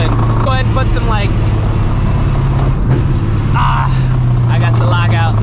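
A 600hp procharged New Edge Mustang GT engine drones loudly and steadily from inside the car, a constant low rumble and whine, with someone talking over it at times.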